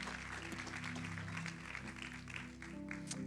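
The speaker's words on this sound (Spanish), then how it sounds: "Vamos a darle otro aplauso fuerte a nuestros hermanos que se están uniendo a la visión." A church congregation applauds in welcome during a Spanish-language service, a fairly faint wash of clapping heard from a distance, with a sustained tone and some voices mixed in.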